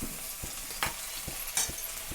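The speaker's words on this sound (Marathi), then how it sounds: "कांदा आता तेलात छान असा लाल होऊ द्यायचा आपल्याला तर बघा छान असा कांदा लाल झालेला आहे तर मी हे टमाटे टाकून घेते" Tomatoes go into onions frying in hot oil while Kaju Masala curry is being cooked. A close, steady sizzle plays alone, broken by several soft knocks as the pan is stirred.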